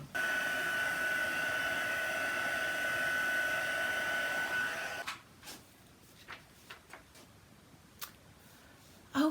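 A heat dryer runs steadily and loud for about five seconds with a thin whine as it dries a watercolor card, then cuts off, leaving faint clicks and small handling knocks.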